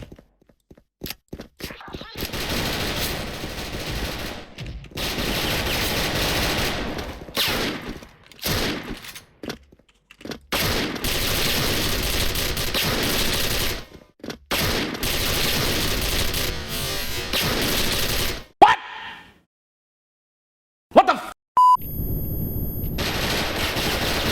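Rapid bursts of shotgun fire from a double Winchester in a video game, long sustained volleys broken by short pauses and a brief near-silence near the end.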